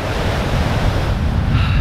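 Steady wash of waves breaking on a Lake Superior beach at Pictured Rocks, Michigan, a continuous close roar of surf mixed with wind, no voices.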